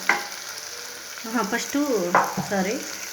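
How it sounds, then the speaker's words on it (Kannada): Something stirred while frying in oil in a pan with cooked lentils, tomato and field beans, giving a steady close sizzle with scraping stir strokes from about halfway through, with no talk. "ಒಂದು 2 ನಿಮಿಷ ಎಣ್ಣೆಲಿ ಫ್ರೈ ಮಾಡೋಣ"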